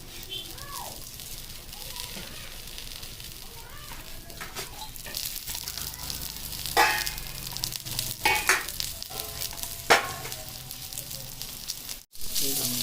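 Bun parotta fries in plenty of oil on a hot griddle, a continuous close sizzle with intermittent scrapes and clatters of a spatula, while people talk over it and children are heard.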